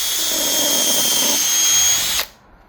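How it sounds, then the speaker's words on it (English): A power drill pre-drills at a slight angle into the edge of a door jamb for an armor plate installation, a steady high whine running near and loud for about two seconds before it stops abruptly. "Now we're going to pre-drill. We're gonna pre-drill to the back of the hole and at a slight angle."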